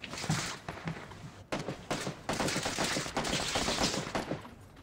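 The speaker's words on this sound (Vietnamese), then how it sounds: "máy bắn nó hai ba viên" Rapid automatic gunfire in a shooter game, dense bursts of loud close shots rattling almost continuously with a brief pause, no talking over it.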